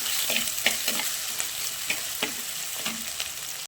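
Onion, crushed garlic and green chillies sauté in a pan for a sardine curry, a constant sizzle punctuated by regular scraping strokes of a spatula.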